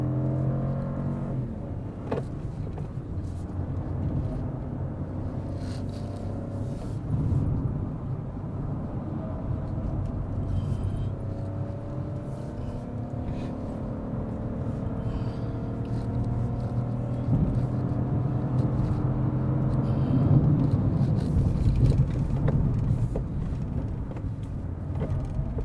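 A Peugeot 2008 with a 1.2-litre turbo engine climbs the uphill road to Genting in third gear. A steady engine drone and road rumble runs throughout and swells slightly toward the end, with no talk.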